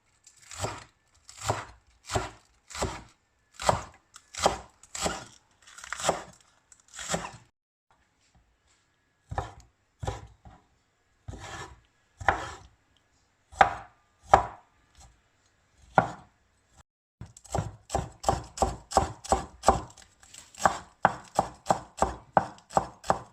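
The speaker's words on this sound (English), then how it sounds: "Now we cut the spring onions." A knife chopping spring onions on a board in quick rhythmic bursts of crisp cuts, with a brief pause midway and a faster, denser run of chops near the end; no talking.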